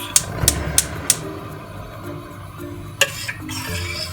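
A spoon stirs chicken soup thickened with flour in a pot, giving several sharp clinks against the metal early on, then quieter scraping and a couple more knocks over a low kitchen hum.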